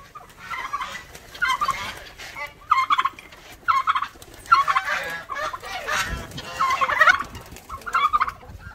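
Farm turkeys gobble in repeated loud bursts among other poultry waiting to be fed on a farm in the rainy season, the calls close and overlapping.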